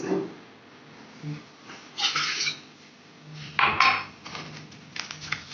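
Metal spoon scraping and clinking against a pot while stirring a chocolate sauce of milk and packet sauce mix. Intermittent bursts of scraping, close and moderately loud, with quiet handling in between.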